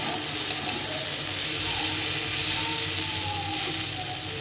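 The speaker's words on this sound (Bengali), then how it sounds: "আলুটার সঙ্গে মশলাটা একটু ভেজে নিতে হবে" Potato fries with masala spices in a pan, giving a constant hissing sizzle that stays loud and steady throughout, with no voices.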